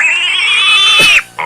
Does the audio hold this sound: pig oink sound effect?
yes